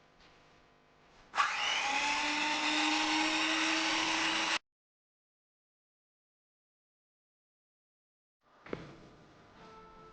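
Electric beater whipping ground paste into a mixture, a loud steady motor whine running for about three seconds, then silence before a brief second burst starts up near the end.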